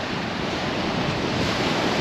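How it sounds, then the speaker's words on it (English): Big waves crashing and washing at Corallia Beach on a windy day, a dense continuous roar of surf mixed with gusting wind buffeting the microphone, loud and close with no pauses. "It's quite windy today, some nice big waves."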